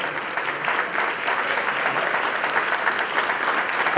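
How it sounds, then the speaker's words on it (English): Crowd at an event applauding people from Inca Cola, a loud, dense and continuous wash of clapping that stays even throughout. "let's give him a big round of applause to the people from Inca Cola"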